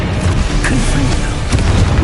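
A Confringo fire spell exploding in the Hogwarts Legacy video game: a loud, sustained booming blast with rumbling low end that fills the whole moment, mixed with game effects and a voice.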